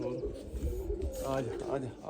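Pigeons, newly brought-out birds in a loft, coo with low throaty calls close by, steady through the clip while a person talks over them.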